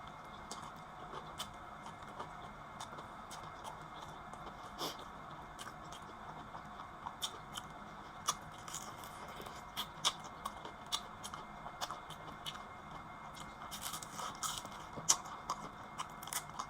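Someone eating crunchy fried chicken feet, with faint close crunches and chewing clicks scattered over a quiet background hum.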